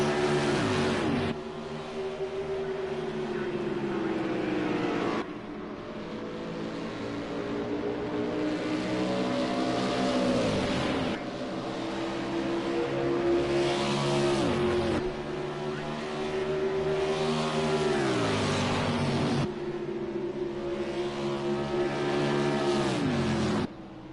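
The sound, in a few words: race cars racing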